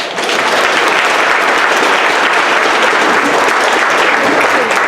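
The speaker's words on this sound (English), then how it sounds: "Let's give them a clap." Loud, dense applause fills a crowded DAC Days event hall, the audience clapping continuously for standing first-time attendees, sustained evenly from start to finish with no break.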